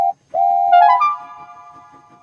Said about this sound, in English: he heard a whistle.